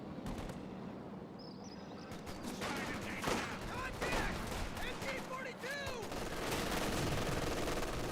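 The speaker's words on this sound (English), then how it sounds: "Grenadiers or MG40 firing away, hitting the rifle squad there." Machine gun fire from an MG40 position in Company of Heroes 2 as grenadiers fire on a rifle squad, dense rapid bursts amid continuous battle noise, with scattered shots and whistling effects layered over a steady loud din.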